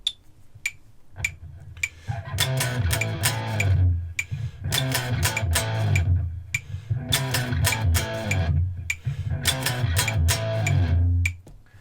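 Guitar plays a riff with palm-muted downstrokes and distortion: tight, chugging syncopated phrases repeated about four times with short gaps, loud and close, no talking.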